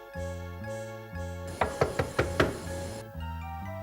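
Sharp knocking on a door, five quick raps close by over a steady musical background score, followed by a pause.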